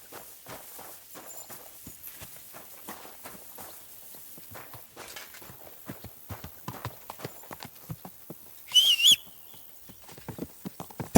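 Horse hooves clip-clopping in the video game Kingdom Come Deliverance 2, a steady run of sharp, close hoofbeats alone, with a brief louder burst near the end.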